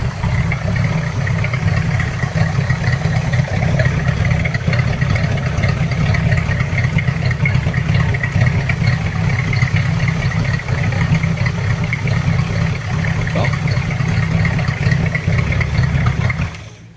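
A car engine idles steadily and loudly up close, a continuous low rumble with even mechanical hum that holds for the whole stretch and cuts off abruptly at the end.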